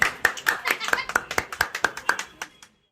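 Hands clap in a quick, steady rhythm, about a dozen close, crisp claps at a family celebration, with voices audible alongside before the clapping stops abruptly.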